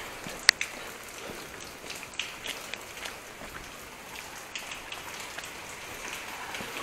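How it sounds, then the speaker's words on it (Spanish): Heavy rain falling at night around an abandoned building, a continuous soft hiss of drops with scattered sharper taps and drips on nearby surfaces. "Está lloviendo mucho, la verdad."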